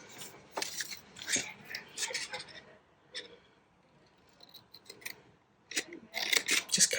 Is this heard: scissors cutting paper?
yes